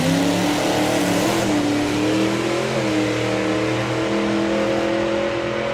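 A supercharged big block Ford drag car engine revs loud and close at a drag racing meet, a steady heavy roar whose pitch rises and falls briefly before settling into a sustained drone.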